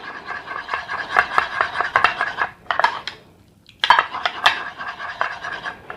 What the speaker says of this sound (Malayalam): നല്ലവണ്ണം ഒന്ന് ഇളക്കി കൊടുക്കാം.